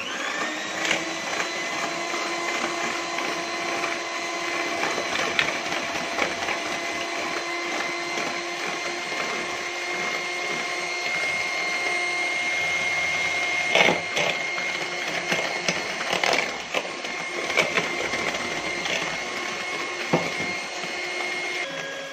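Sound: electric mixer beating sugar into cake batter

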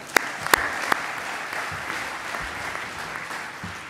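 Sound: audience applauding itself

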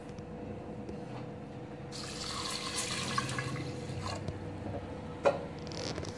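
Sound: washing toor dal in water

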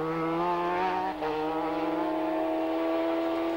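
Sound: racing motorcycle braking and accelerating, Isle of Man TT

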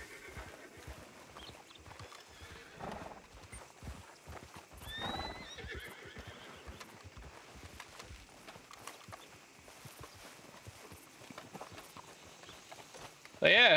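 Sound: horse hooves and neigh in video game Red Dead RedM

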